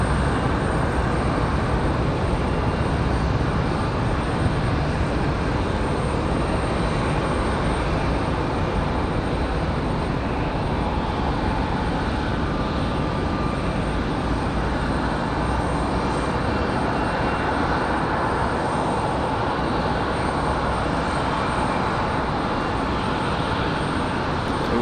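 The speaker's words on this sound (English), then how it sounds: "That 767 300 freighter will be our next arrival." A FedEx Boeing 767-300 freighter arriving from Memphis at Raleigh-Durham International Airport makes a continuous, loud engine roar with a broad rumbling wash that holds steady throughout and has no voices.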